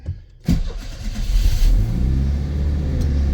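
A 1988 Pontiac Fiero engine catches after a brief quiet moment, then a close, loud rumbling idle builds into steady running as the car starts to move, with no talking.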